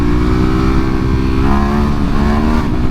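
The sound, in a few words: Ducati Hypermotard SP 2022 motorcycle engine revving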